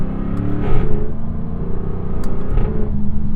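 A 2024 Jaguar F-Type R75 pulls hard from second gear, its engine a loud, close, continuous roar that rises in pitch with a brief dip around a shift, steady rumble throughout and no talking.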